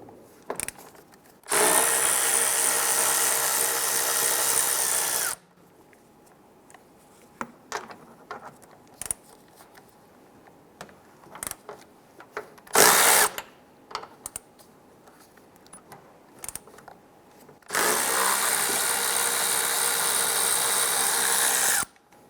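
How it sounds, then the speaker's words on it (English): A ratchet with a 13mm deep socket loosens the strut tower nuts on a 2005-2010 Chrysler 300. Two long, loud bursts of rapid driving frame a quieter stretch of scattered clanks and taps of tools on metal. "We're going to use our 13mm deep socket. We're going to get loosen and remove these 3 nuts."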